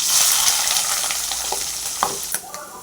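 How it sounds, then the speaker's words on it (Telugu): Green chilli, onion and dried chilli fry in a pan with a loud, steady sizzling hiss, broken by a few scraping stirs near the end. "ఒక పచ్చిమిర్చి, ఆనియన్ వేసి వేయించాలి."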